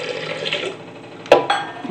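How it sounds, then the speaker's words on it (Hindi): Water is poured into a cooking pot with turmeric, red chili and garam masala, a close splashing gurgle with a sharp splash near the end. "बस जितना पानी आपको ऐड करना है आप उतना पानी इसमें ऐड कर सकते हो,"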